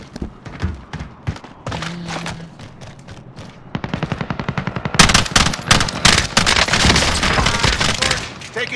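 Automatic gunfire in the battle-royale video game Warzone: scattered shots at first, then dense, loud machine-gun bursts that grow heavier and continuous for the last few seconds.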